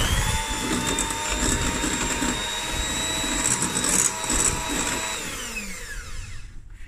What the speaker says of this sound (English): I've got 250 grams of soft butter and I'm just going to loosen it with my hand mixer.